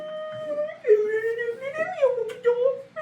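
A person whimpers and wails in drawn-out, wavering crying tones with breathy catches, close and fairly loud across three seconds, in a voice close to sobbing.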